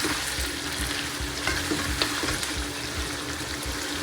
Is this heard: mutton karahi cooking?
yes